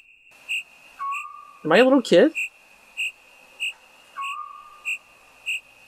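Crickets chirping inside a house in a horror video game, a steady high-pitched trill with regular pulsing chirps, clear and close, while a person speaks briefly over it.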